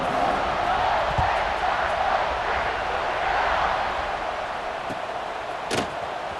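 Stadium crowd noise from the College Football 26 video game: a steady, broad roar of cheering fans continues throughout, with a few sharp thumps and a brief bright crackle near the end.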